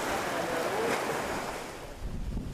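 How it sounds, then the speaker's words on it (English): Rough, storm-whipped waves churning across the Rangiroa lagoon in French Polynesia, a broad surf wash with wind buffeting the microphone, rising then easing with a low swell at the end. "That's the lagoon of Rangiroa, and you see the lagoon is like a rough sea, which is not common."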